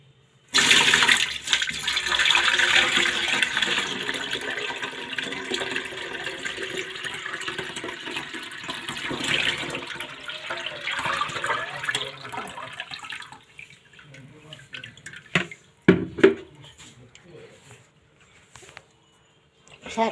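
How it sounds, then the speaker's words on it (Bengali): Liquid from rotted mustard cake fertilizer pours and splashes through a sieve, a steady watery rush for about twelve seconds that then thins to drips and a few clattering knocks, with a voice talking over it. "এবার আমি ছাঁকনি দিয়ে এটা ছেঁকে নিচ্ছি।"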